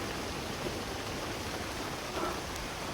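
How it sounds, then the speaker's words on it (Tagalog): Heavy rain pours steadily beside a river, a dense, even hiss that fills the whole stretch with no talk over it. "ang lakas talaga ng ulan tol."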